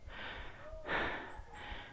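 Heavy panting from a hiker walking uphill on a hill trail in Rizal, loud close breaths in and out, two long rasping exhales with a quick intake between, no talking.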